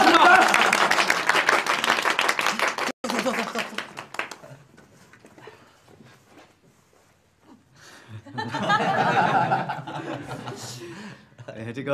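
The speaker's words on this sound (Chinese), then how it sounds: "我们大家开始鼓鼓掌" Group clapping and laughter rise at a wedding gathering for the groom, following a stretch of talk and a quiet pause, steady and fairly close in the last few seconds.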